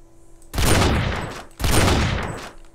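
Two loud bursts of rapid gunfire from the SA-MP Rust video game, back to back, each a sustained volley of about a second that fades into a ringing tail. No voices.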